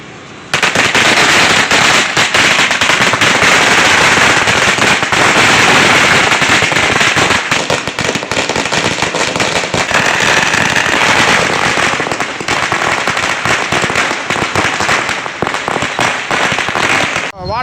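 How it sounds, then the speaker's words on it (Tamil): Firecrackers set off at a DMK street celebration in the Saravanampatti area, a loud, dense, continuous barrage of crackling bangs close by that lasts throughout and masks any voices. "பட்டாசு வெடித்து இனிப்பு வழங்கி கொண்டாடி கொண்டிருக்கின்றோம்"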